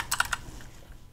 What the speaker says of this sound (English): I'm going to start typing in TikTok embed.